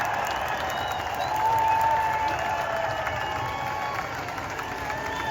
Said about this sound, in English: Let's give another round of applause to Governor J.B. Pritzker and Congresswoman